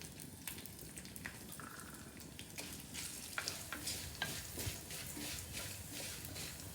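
Cumin, black pepper and fenugreek frying in a pan, with a soft crackling sizzle and stirring scrapes, quiet and close, with no talk.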